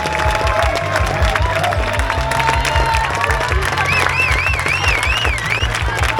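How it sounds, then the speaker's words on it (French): Crowd clapping and cheering steadily at the start of the Course Royale 15 km race in the gardens of the Château de Versailles, with loudspeaker music and voices mixed into the dense applause. "applaudissements, applaudissements pour les courses partagées s'il vous plaît"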